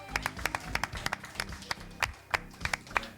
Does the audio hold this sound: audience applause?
yes